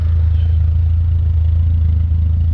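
A BMW car engine idles steadily after a tune-up, a low continuous rumble that holds even throughout with no revving or other sounds.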